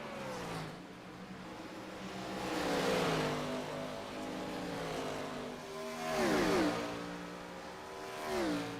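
Stock race cars roar through a track corner in a short-track scrambler series race, engines rising and falling as two or three cars pass close by in waves.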